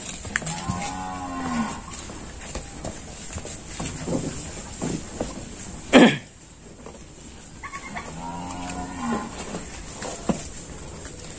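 A cow on a Ben Tre cattle farm moos twice, with long low calls spaced several seconds apart, close and clear, and a sharp bang between them over faint background noise.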